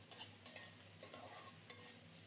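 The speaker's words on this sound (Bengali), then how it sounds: "এবার ঢেকে ঢেকে নেড়ে চেড়ে পেঁয়াজ আর রসুন একটু নরম করে এবং লালচে করে ভেজে নেব" Onion and garlic sizzle in hot oil while being stirred, a soft steady frying hiss broken by light scraping strokes at irregular intervals, fairly faint and with no voices.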